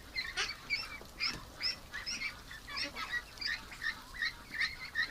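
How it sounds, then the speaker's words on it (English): Small duckling eating nonstop, its rapid high chirping peeps repeating in quick bursts throughout, close and fairly loud over a faint low background hum, with no talking. "what a small little duck"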